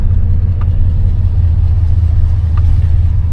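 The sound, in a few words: 1984 Chevy Monte Carlo engine running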